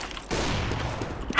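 A shotgun fires in CS:GO as a sudden loud blast that cuts in and rings out briefly, followed by a short burst of gunfire noise from the match.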